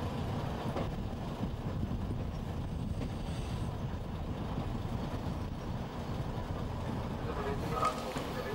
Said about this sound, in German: In Zinnowitz ist ein Zug aus Peenemünde eingetroffen.